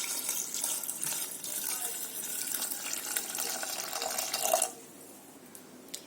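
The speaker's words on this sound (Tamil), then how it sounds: "இப்போ இந்த கொண்டக்கடலை மூழ்கிற அளவுக்கு தண்ணி சேர்த்துக்கலாம்." Water pours steadily into a pressure cooker holding soaked chickpeas for Tamil-style sundal, a continuous close splashing stream that stops abruptly near the end, leaving quiet room tone.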